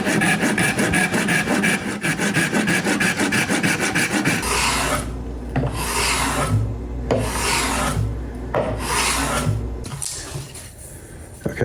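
A beech wood chopstick blank is roughed out by hand with a rasp, repeated rhythmic rasping strokes close up, quick and dense at first, then slower, longer scrapes.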